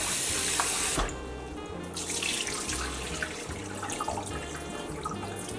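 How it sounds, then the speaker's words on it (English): Parboiled jasmine rice is rinsed under a running faucet, water splashing steadily in a sink after a brief louder gush at the start. "once you're washing your rice that you're draining all the water out"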